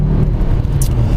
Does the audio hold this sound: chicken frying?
no